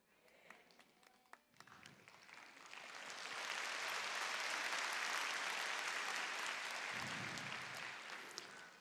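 Applause from a church concert audience in Iksan: a few scattered, sharp claps at first, then swelling into a broad, sustained roar of many hands that stays strong before easing slightly at the end.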